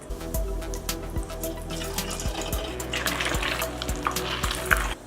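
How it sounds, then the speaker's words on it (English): Boiled eggs fry in oil, sizzling steadily with a hiss that swells in the second half, broken by regular knocks of a utensil against the pan. "I will fry these boiled egg just a little bit"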